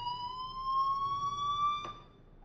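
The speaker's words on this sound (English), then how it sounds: "Hey, do you hear that fire alarm? That means you should be outside." Fire alarm tone sounding in the video game Life is Strange: a steady, loud electronic ring holding one pitch with bright overtones for about two seconds, then cutting off, with no voices over it.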